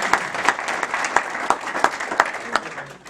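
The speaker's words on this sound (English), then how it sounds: "How about a round of applause?" Steady applause from a small crowd at a business seminar panel, a sustained patter of clapping with a few sharper claps standing out, gradually tapering toward the end.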